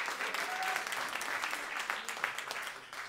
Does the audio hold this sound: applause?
yes